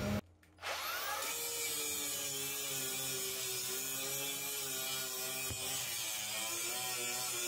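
An abrasive wheel on a power tool grinds steadily across the metal floor of a school bus being converted, a loud continuous whirring scrub after a brief start-up, with no voices.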